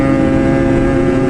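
A small 600 cc Ski-Doo MXZ snowmobile engine drones loudly and steadily while riding a snowy trail in November, a close, constant buzzing hum without speech.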